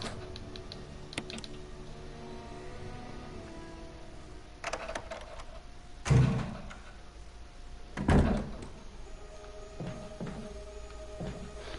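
A door unlocked with a key and swung open in the Resident Evil 1 Remaster, two sharp mechanical clunks a couple of seconds apart over quiet ambient music.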